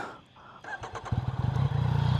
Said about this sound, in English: let's start up the exhaust on this thing